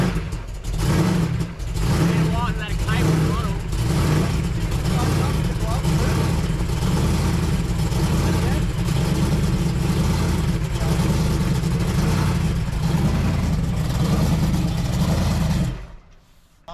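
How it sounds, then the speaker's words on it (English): Supercharged big block engine in a car on an airstrip runway, rumbling and revving heavily in repeated surges close by, loud and continuous until it cuts off near the end, with people talking over it. "Officially have now sat in the seat of a supercharged big block powered vehicle before Alan."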